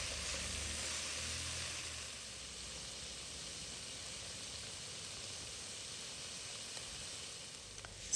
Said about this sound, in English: we are going to stir fry them together with the vegetables that are already in the pan